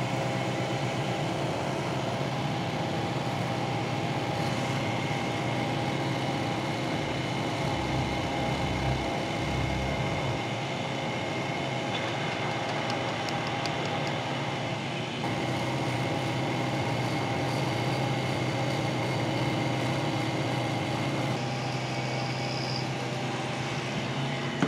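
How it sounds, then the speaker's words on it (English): A milling machine cuts a bronze crank arm for an 1894 Giraffe bike with a half-inch end mill, giving a steady, unbroken mechanical drone with a constant hum and faint high whine that runs the whole time with no talk. "Let's see what it's like to cut this with a half inch end mill."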